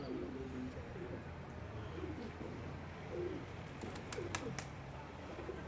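Pigeons coo in soft, low repeated calls, with a few faint higher chirps near the end, all set against a quiet outdoor hum.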